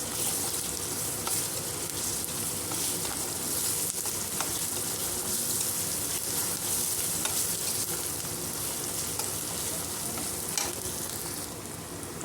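Ginger garlic paste frying in a pan for a meal maker fry makes a dense, steady sizzle at an even level, stirred now and then, with no talking.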